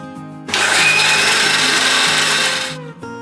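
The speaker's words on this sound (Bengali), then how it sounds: "এরপর সুজিটা মিক্সিতে পেস্ট করে নিচ্ছি।" A mixer grinder whirs loudly for about two seconds as it grinds soaked semolina into a paste, starting and stopping abruptly, with a soft music backing underneath.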